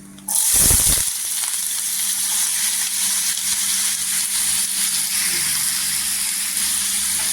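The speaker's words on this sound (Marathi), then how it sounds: "हे तेल गरम झालेलं आहे आता ही बटाटी आहे ना तेलामध्ये टाकून घ्यायची" Potato pieces dropped into hot oil in a pan for a spicy potato bhaji, a sharp burst of crackle on entry that settles into a loud, steady, close sizzle.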